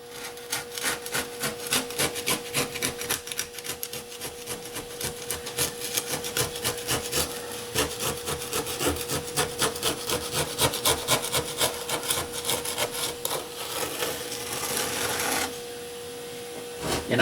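A hand scraper rasps steadily against plaster and ballast on N scale Kato Unitrack model railway track, a continuous close gritty scraping in rapid strokes that eases off briefly near the end.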